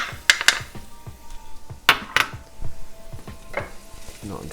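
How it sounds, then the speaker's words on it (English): Diced yellow onion and minced garlic soften in extra virgin olive oil in a pan, a faint sizzle running under quiet stirring and a few sharp clinks of a utensil against cookware. "Now I'm just gonna let those saute until they're nice and soft."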